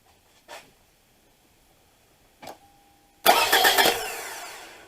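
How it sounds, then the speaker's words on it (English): A 2004 Toyota Camry 2.4 engine, newly installed, is cranked after two faint clicks, then catches and roars into a loud, steady run that holds close and strong to the end. "thought it'd be kind of neat to see, this engine run in this car for the first time"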